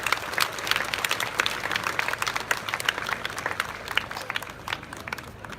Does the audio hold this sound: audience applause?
yes